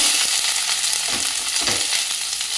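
Onion dropped into hot oil with cumin seeds for a bitter gourd curry, a short burst of close hissing sizzle with a couple of soft stirring scrapes.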